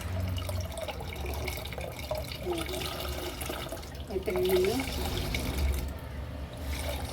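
Liquid fertilizer made from soaked onion peels being strained, a steady close pouring and trickling of water with splashing, while a person talks over it.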